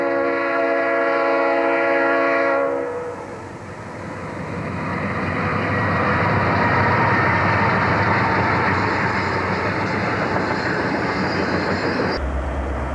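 A Conrail freight train passes on the railroad, opening with a loud multi-tone horn blast before a long, heavy rumble and roar of wheels and cars rolling close by.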